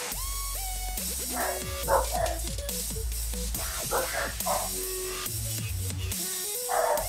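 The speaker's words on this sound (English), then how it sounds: "I hear doggies. Yeah, my dogs are going nuts for some reason." Several dogs barking excitedly nearby indoors, a rapid, overlapping run of loud barks and yips with a few whimpers, continuing for the whole stretch.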